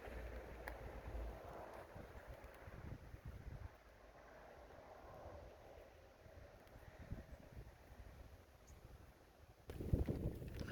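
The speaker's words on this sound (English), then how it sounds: "Oh, it's so windy." Gusting wind in an outdoor kitchen garden buffets the microphone in low rumbling bursts, steady through most of the clip and growing stronger toward the end.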